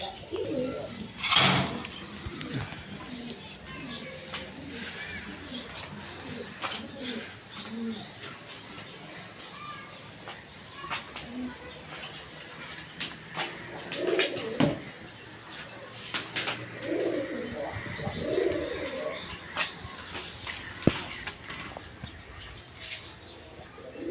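Pigeons of several breeds kept for sale coo softly and repeatedly at a seller's stall, with low throaty calls scattered throughout, plus a few sharp knocks and rustles nearby.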